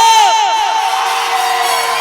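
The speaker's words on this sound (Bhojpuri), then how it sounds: "तनी हाला हो के चाहे जोरदार ताली हो के चाहिए हो।" Crowd at an outdoor Bhojpuri/Magahi stage show in Masurhi cheering and whooping with a loud burst at the start that fades into sustained noise, with a ringing amplified tone over the din.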